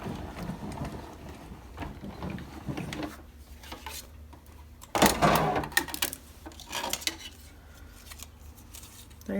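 Paper in a cutting-plate sandwich cranked through a manual die-cutting machine, giving a close, gritty mechanical grinding with a louder burst of clattering midway and quieter rolling before and after.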